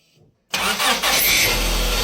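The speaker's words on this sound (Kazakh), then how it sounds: "Так, машина оталды." A Honda Odyssey engine cranks and catches after a short silence, bursting into a loud, steady idle that fills the rest of the moment.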